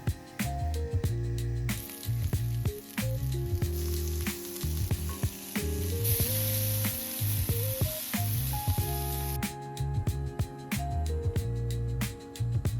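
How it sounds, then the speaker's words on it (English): Fish fillets seasoned with salt and cayenne pepper sizzle steadily in an oiled pan, a continuous close frying hiss with occasional clicks and stirring sounds and no talking. "Let's oil up our pan and place our fillets in."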